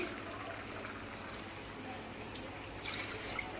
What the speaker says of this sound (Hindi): और 1-2 गिलास और डाल दूँगी इस कुकर में, गर्म पानी डाल दूँगी।